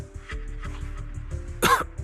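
A character in the Zenless Zone Zero video game coughs and clears the throat in a short close rough burst near the end, following low murmuring sounds.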